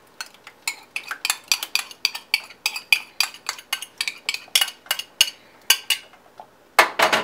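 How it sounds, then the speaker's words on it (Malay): A spoon scrapes and clinks steadily against a pot as coconut milk is stirred into durian pengat, a rapid regular rhythm of close metallic knocks with no talk. "Kacau masakan kita hingga sebati"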